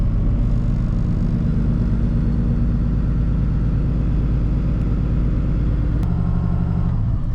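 A 2017 Jayco Seneca RV's diesel engine runs loudly and close with a constant deep, throbbing rumble, then shifts pitch abruptly near the end as the revs change.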